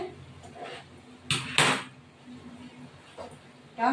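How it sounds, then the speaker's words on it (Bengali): Chicken stir-fried in a pan for kosha, with a couple of loud metallic scrapes and clanks of the utensil against the pan over a low background hiss, close by. "এবার এই মাংসটা কষা হচ্ছে"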